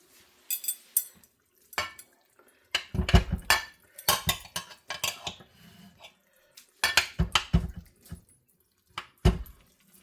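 Aluminium foil crinkles and rustles over a casserole dish of hamburger and potatoes, with clinks of dishware in short, close bursts separated by brief pauses.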